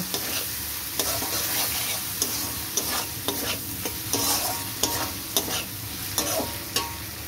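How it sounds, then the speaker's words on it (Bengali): Onion and turmeric powder are stirred and fried together in a hot pan: regular spatula scrapes land about once a second over a constant, fairly loud sizzle, with no talking. "হলুদটাকে ভালো করে পেঁয়াজের সাথে মিশিয়ে কষিয়ে নেব।"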